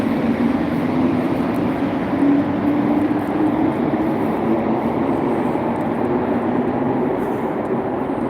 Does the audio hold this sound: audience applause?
no